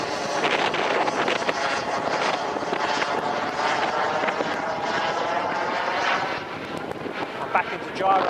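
A Viperjet model jet aircraft roars at full power, its turbine whine steady and loud throughout with wind buffeting, while a voice talks over it.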